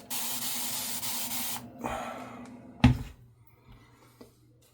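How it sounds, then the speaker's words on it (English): A steady hiss of water spraying for about a second and a half, followed by a sharp knock and quieter handling sounds. "this side not as chilly with the water spray"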